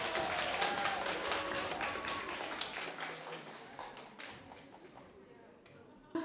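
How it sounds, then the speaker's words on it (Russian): An audience at a children's folk costume show claps loudly at first, then the applause gradually thins and dies away, with a voice briefly audible over it. "Громкие аплодисменты!"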